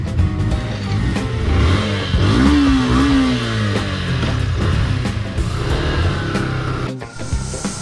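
A Yamaha FZS V3 motorcycle engine runs loud and close, with a steady roar and a rev that rises and dips briefly near the middle, continuing to the end.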